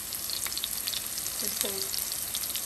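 King fish sizzles steadily in hot oil over a medium flame, Kerala style, a continuous bright crackle with a brief soft sound in the middle.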